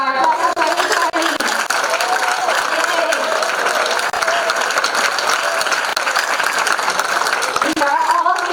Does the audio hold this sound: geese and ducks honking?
no